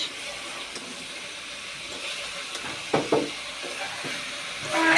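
Bitter gourd and potatoes sizzle in oil in a pan with onions and green chilies, a soft steady hiss punctuated by a few sharper spatters and stirring clatters, swelling louder at the end.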